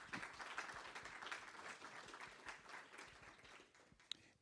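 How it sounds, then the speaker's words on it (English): Audience applause for Justice Sondock at a law school lecture, a thin, moderately quiet patter of clapping in a hall that gradually tapers off before a couple of sharp bumps at the end. "Let's give a round of applause."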